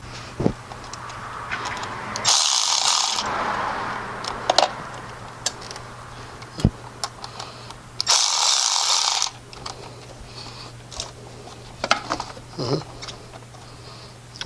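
Two short bursts of mechanical whirring as a hose clamp is tightened on a Maserati thermostat hose, separated by light clicks and taps against a faint steady hum.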